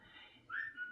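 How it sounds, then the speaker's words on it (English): A Furbo dog camera gives a short, faint rising whistle that settles into a thin steady tone, set off by the dogs barking indoors. "the furbo will whistle like that"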